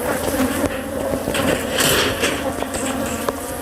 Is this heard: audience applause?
no